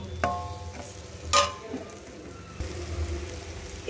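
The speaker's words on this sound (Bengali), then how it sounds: "এই আলুর মধ্যেই সেই সয়াবিনটাকে দিয়ে দিচ্ছি" Soya chunks being stirred and sautéed with potatoes in a pan, giving a soft sizzle under scattered scraping clinks of a spatula, with one sharper clatter near the middle; fairly quiet and close.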